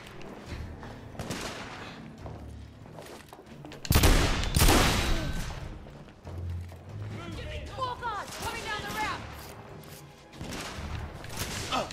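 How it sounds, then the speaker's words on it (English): Gunfire in the video game The Order: 1886 crackles in bursts, with a loud close volley midway and scattered shots around it, over game sound and voices shouting during the firefight. "What are you shooting at?"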